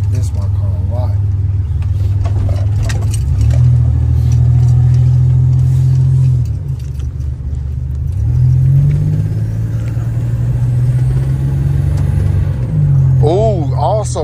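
A car nicknamed Ski Mask drives through city streets, its engine a steady, close low rumble that surges briefly as it accelerates, with a voice talking over it.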